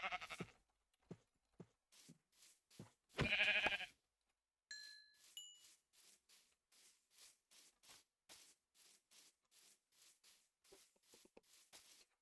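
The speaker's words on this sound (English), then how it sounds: "Yep, I'll have some more sheep." Repeated short sheep bleats from a block-building survival video game, a steady run of evenly spaced calls after an early burst of louder rustling, moderately close with no talking.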